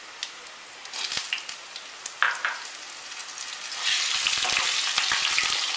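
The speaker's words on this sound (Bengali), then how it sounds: "আলুগুলো আমি একটু ভালো করে ভেজে নেব" Cut potatoes fry in hot oil over a tempering of crushed spices, a close, steady sizzle punctuated by sharp crackles and pops, growing louder and denser toward the end, with no voices.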